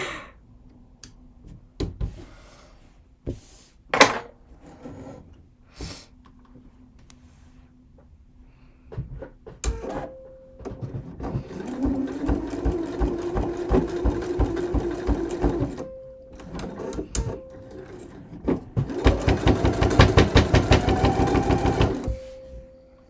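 Sewing machine stitching in runs during a fashion sewing session: a long steady burst of needle-driven whirring, then a short pause and a second louder run, with clicks and handling noises between, close by and no talk.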